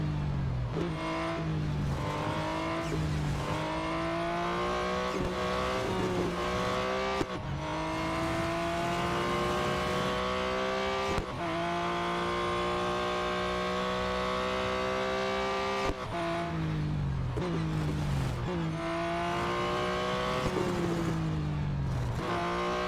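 A Porsche 911 GT1 race car in a racing video game howls continuously at high revs, with repeated gear shifts that drop and climb the engine pitch over a steady, loud drone, with no voices.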